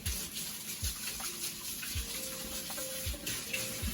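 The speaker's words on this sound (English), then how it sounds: "I'm just gonna quickly wash my hands" Running tap water while hands are washed at a kitchen sink during a home cooking demo, a steady close gush with soft irregular splashes and no talking.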